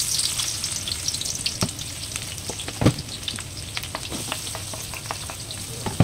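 Onions and garlic fry in a pan with a close, steady sizzle and crackle, broken by a few light stirring knocks.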